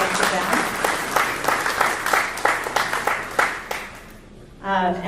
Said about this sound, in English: So let's give them one more round of applause.